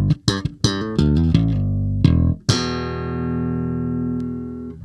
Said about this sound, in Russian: Сейчас я в крайнем правом положении, и у нас звучат катушки в параллельном режиме.